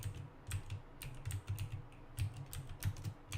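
Fast, irregular typing on a computer keyboard, crisp close key clicks in quick bursts with short pauses, quiet and alone.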